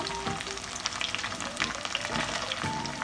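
Chicken pieces for chicken Manchurian fry and are stirred on a medium-high flame, giving a steady close sizzle with light crackles and occasional clinks of the stirring utensil, with no talk.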